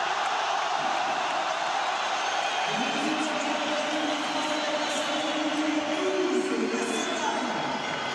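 A huge crowd of about 75,000 at the Stade de France roars and applauds a player substitution during a France–Germany football match. The broad, steady wash of noise fills the stadium, with a low drone underneath.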